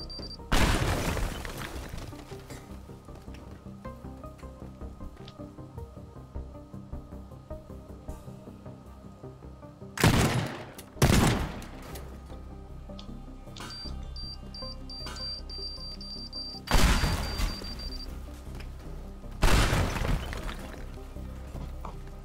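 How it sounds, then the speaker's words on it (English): Bombs going off and structures shattering in the Teardown destruction game: several heavy booming crashes with crumbling debris, spaced irregularly over a low background rumble, plus a faint beeping tone in the middle, with no speech. "I'm worried if two bombs blowing me up"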